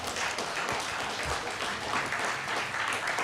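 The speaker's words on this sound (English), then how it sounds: "would you give the panel here a round of applause" An audience at a community panel on animal control gives sustained, dense applause that stays loud and even from start to finish.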